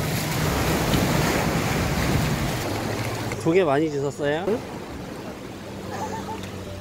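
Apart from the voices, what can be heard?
sea waves on the shore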